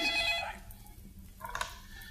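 A mobile phone rings briefly with a bright electronic ringtone, cutting off after a short burst and followed by a faint second chirp.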